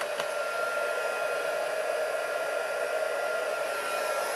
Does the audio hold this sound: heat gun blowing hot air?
yes